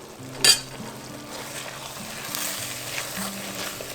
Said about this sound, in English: Now it's starting to bubble, it's starting to look really good.